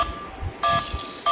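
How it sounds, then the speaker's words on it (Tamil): A toy phone plays electronic dialing tones: two or three short bright beeps separated by brief pauses, loud and close, with faint rattling between them. "ஃபோன் பண்ணுற மாதிரி சவுண்ட் கேட்குது."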